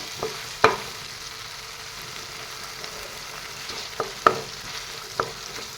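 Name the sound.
frying and stirring ingredients for fish curry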